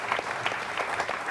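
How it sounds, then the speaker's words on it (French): Audience applause in a studio talk show, with a brisk, even run of claps at moderate volume lasting just over a second and no voices breaking through. "Je pense que ça s'applaudit, s'il vous plaît."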